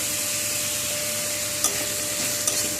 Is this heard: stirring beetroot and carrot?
yes